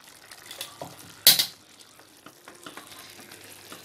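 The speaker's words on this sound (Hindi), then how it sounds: "दो चम्मच मैंने घी डाल दिया है" Two spoons of ghee hitting a hot pan for pulao give a sharp, brief sizzle burst, followed by faint crackling and light clinks of utensils.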